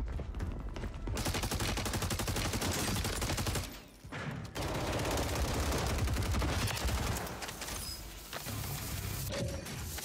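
Holger rifle fire in Call of Duty Warzone, loud and sustained with dense rapid bursts, a brief pause near the middle, then more continuous shooting amid crashing impacts.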